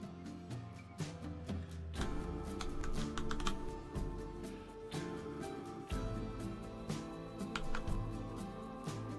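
Computer keyboard keys are pressed in quick, irregular bursts while navigating in the game Planet Coaster, close and clear, with brief pauses between flurries of typing.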